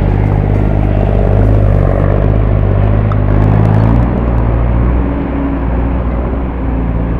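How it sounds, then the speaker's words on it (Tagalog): A heavy truck engine strains and labours in a loud, steady, close low rumble that holds for several seconds, with no talking. "Hirap na hirap yung truck eh."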